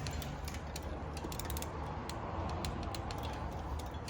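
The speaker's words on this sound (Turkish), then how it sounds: "Yağ pompamız yani vakum pompamız uygun tork değerine" Bolts on the vacuum pump of a Mercedes E220d 4matic engine are tightened to torque, giving quick repeated metallic ticking clicks of a ratchet-type tool over a steady workshop background hum.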